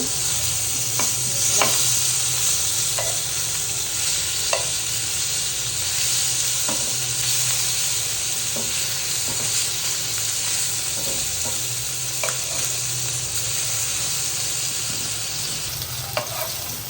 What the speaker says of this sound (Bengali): মাছগুলো একটু উল্টে দিচ্ছি বেশি ভাজবো না হালকা ভাজা দিব